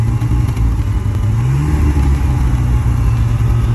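A Rover SD1 2600S car engine, long unused and kept in a barn, runs at a steady idle, loud and close, with a constant low rumble and no speech.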